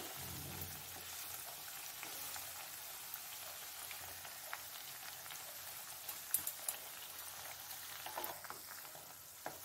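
Bread pieces frying in oil in a pan while being turned, a quiet, even crackling sizzle with a few sharper pops and taps near the end, no talking.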